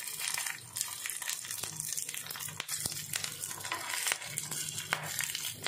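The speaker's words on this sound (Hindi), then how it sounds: "ऑयल हमारा गर्म हो रहा है तो सबसे पहले हम यहाँ पे डालेंगे राई, जीरा यहीं पर डाल देंगे, हरी मिर्च और लाल मिर्च" Mustard seeds, cumin, green chillies and red chillies sizzling and crackling in hot oil, with a steady close frying hiss broken by sharp pops and spatters, with no talk.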